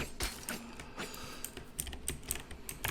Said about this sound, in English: What keyboard do you use? I'm on like a Logitech Pro X blue switch.